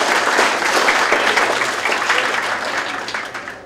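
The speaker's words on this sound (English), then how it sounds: "let's give our volunteer a round of applause" An audience gives a volunteer a round of applause at a meal-packing event, loud sustained clapping filling the room and tapering slightly toward the end.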